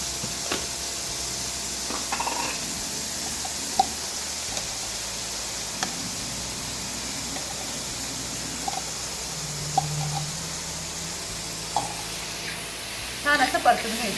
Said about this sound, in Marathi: कांदा हा सोनेरी रंग येईपर्यंत परतवायचा, छान अगदी गुलाबी कलर होईपर्यंत